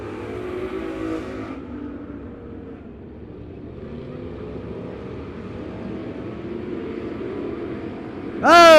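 Dirt-track race cars at Crawford County Speedway roar off turn four on a green flag, engines rising together in the distance before one car screams close and loud at the end.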